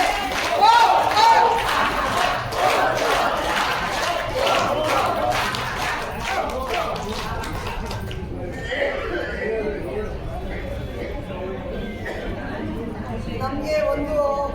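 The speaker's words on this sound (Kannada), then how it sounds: "ನೋಡಿ ಒಂದು ಚಪ್ಪಾಳೆ, ನಗು ಚಪ್ಪಾಳೆ." A laughing club group gathering in Bengaluru claps in rapid, loud rhythmic bursts mixed with hearty laughter and shouting, then the clapping stops and chatter and laughter continue more loosely.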